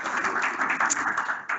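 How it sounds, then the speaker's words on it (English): A brief patch of applause, with light, scattered clapping from a small audience. "So round of applause"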